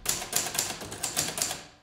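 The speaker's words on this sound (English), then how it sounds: "The slow pace of punching letters on a typewriter" An old manual typewriter clatters close and clear as its keys punch letters at a slow, even pace, about six crisp strikes in under two seconds before the sound trails away.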